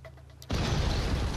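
A sudden loud burst from an explosion in the VR game Broken Edge erupts after a quiet moment and lingers as a dense, rumbling roar.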